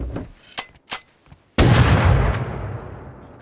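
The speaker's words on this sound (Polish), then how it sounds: "Jeszcze 2 razy z tego punktu muszę strzelić." Gunfire in the online survival game Rust: a few light, sharp clicks or shots, then one loud near blast at about 1.5 seconds that rings out and decays slowly over the rest of the clip.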